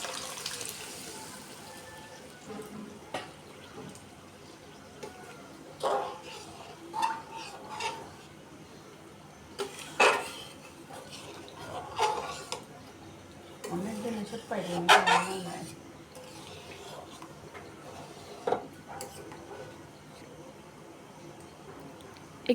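Pre-boiled chickpea dal goes into a pan of fried spices, then gets stirred with a metal utensil, giving irregular scraping clinks and wet sloshing knocks against the pan, with quiet background noise.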